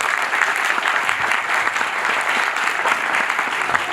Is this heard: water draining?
no